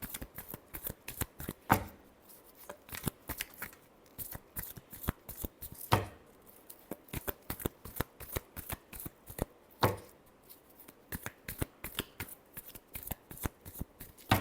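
Tarot cards shuffled by hand in steady, rapid riffling slaps, with occasional sharper knocks as the deck is squared, close and clear with no talking.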